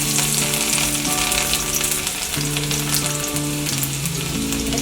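Garlic sizzles steadily in a hot pan with cumin and ginger, a constant bright frying hiss throughout, partly under background music with sustained tones.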